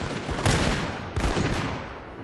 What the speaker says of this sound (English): I have the gunners still able to fire